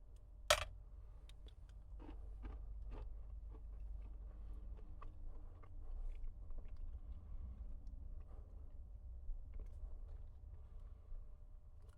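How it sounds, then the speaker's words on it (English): Cookie from a Humanitarian Daily Ration being chewed: faint, close, scattered crunches and bites in a quiet setting, preceded by one sharp crackle. "let's just try a little piece of this cookie here"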